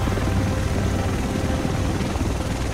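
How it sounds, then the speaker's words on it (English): Helicopter arriving in the video game The Division, a loud, dense rotor roar with steady thudding that fills the whole stretch without voices. "Oh my god, there's the chopper!"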